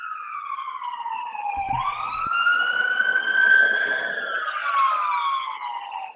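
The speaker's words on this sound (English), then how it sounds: "since that siren's going off" An emergency vehicle siren wails outside from a nearby fire or police station, its rising and falling tone sweeping through as it passes, moderately loud and distant with no talk.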